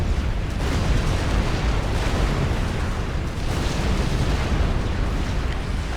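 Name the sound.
battleship fire hitting, Supreme Commander Forged Alliance video game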